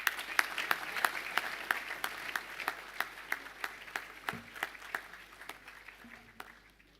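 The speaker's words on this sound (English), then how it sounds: "Give a round of applause." A school assembly audience claps in steady, evenly spaced applause. The sound is moderately loud, fades toward the end and is heard without any speech.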